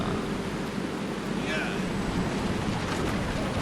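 A waterfall in the LEGO Ninjago Movie video game rushes as a continuous broad roar of water, steady and fairly loud throughout, with no voices over it.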